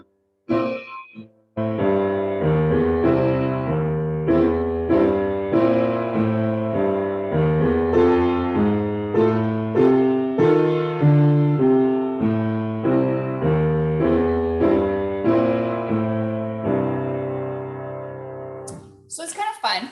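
A piano duet has a student's right-hand part played over a teacher's accompaniment, with steady rhythmic notes ringing clearly for about twenty seconds. There is no talking over the playing.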